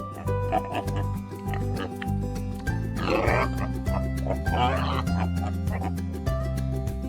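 Collared peccaries in the Arizona desert give a few rough, snorting grunts in two short clusters. The grunts sit over a steady, rhythmic music bed.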